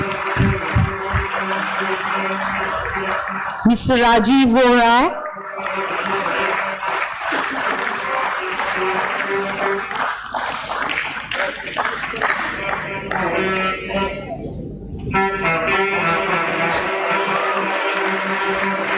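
An audience at a stock exchange listing ceremony claps and cheers in a lively wash of applause, with an announcer's voice speaking over it and a short tonal flourish partway through.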